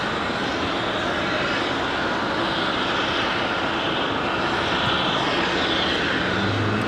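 An Icelandair airliner approaching Raleigh-Durham airport gives off a loud, steady roar of jet engines that swells slightly toward the end, with no talk over it.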